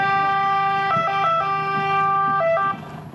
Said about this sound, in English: its sirens ring out to tell everyone they're here